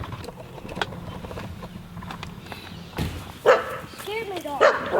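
A dog barks and yelps in a few sharp bursts near the end, frightened by a drone taking off, with steady background noise and some talk around it.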